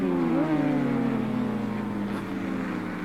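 Racing motorcycles at Oran Park in 1984, engines screaming at high revs with a steady whine and a rising pitch sweep as bikes pass, loud and continuous throughout.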